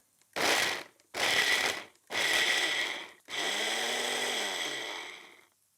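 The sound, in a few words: blender pulsing Parmesan cheese into crumbs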